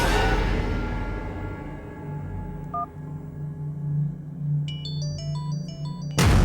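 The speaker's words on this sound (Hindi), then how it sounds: "आंटी, मेरे मोबाइल से कॉल आ रहा है।" A mobile phone rings with an incoming call, a bright, electronic beeping melody of short stepped tones, heard after a low hum and a brief isolated beep, moderately loud and with no talking.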